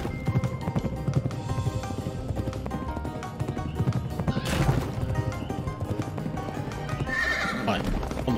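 Game horse in Pumpkin Jack neighs and whinnies over steady clip-clopping hooves at a run, set against a dense, continuous game music and effects bed, with no speech.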